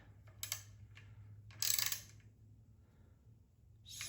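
A wrench tightening bolts on an on-board air compressor: a few sharp metallic ratchet clicks and clanks in short bursts separated by quiet gaps, over a low steady hum.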